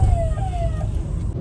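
A police-style hooter siren fitted to a Swift car gives one falling wail tone over steady, loud engine and road rumble, with no talking.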